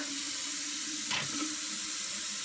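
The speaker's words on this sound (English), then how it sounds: "And then we're going to put some water. This is going to be a filtered water." Filtered water pours from a tap into a blender while coconut milk is being made, a brief rushing splash with no talk.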